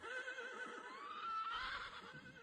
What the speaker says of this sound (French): Deux chevaux s'enfuient.